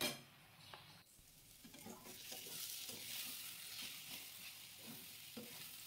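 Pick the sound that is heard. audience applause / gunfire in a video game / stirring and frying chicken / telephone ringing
stirring and frying chicken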